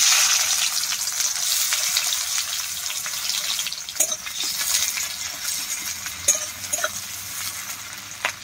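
Chopped onions hitting hot oil in a pan already holding fried bay leaf and dried chili, giving a loud, continuous bright sizzle with occasional clinks and stirring scrapes of a utensil against the pan.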